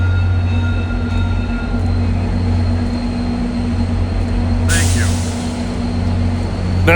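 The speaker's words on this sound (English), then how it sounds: "let's enjoy these engines in this huge passenger train" The diesel engines of a huge passenger train drone steadily in Toronto, with a loud, continuous low rumble and humming tones. A sharp, brief hiss cuts in midway through.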